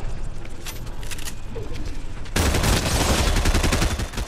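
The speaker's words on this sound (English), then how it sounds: "someone else is shooting at me" Rapid gunfire crackles in a Fortnite Zero Build match: lighter distant shots at first, then a loud, dense burst of firing that dominates the second half.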